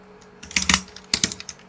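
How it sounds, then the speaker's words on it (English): A short burst of close, crisp key presses as a command is typed into a terminal on a Windows computer, with two quick clusters of clicks and no talking. "I will type the following in the terminal"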